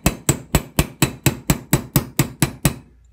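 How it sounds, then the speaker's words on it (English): A hammer striking a punch to drive a pin out of a Sig Sauer P226 pistol part: eleven sharp metallic blows in an even rhythm, close and loud, then silence. "I'm just gonna use my hammer and punch, and I'm gonna punch that pin straight through"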